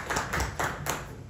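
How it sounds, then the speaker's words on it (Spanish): Light clapping from a small audience welcoming a speaker at an evening pedagogical session; a few uneven bursts of hand claps, close and brief. "Un aplauso para él, por favor."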